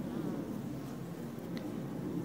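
Honeybees buzz steadily at two busy hives on a summer day, bringing in pollen. The low, dense hum is close and constant, with no voices over it.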